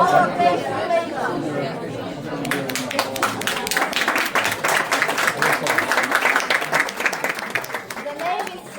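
Audience at a movie pitch event applauds a filmmaker: chatter and talk at first, then a rising burst of many hands clapping that continues steadily before tapering, with voices underneath.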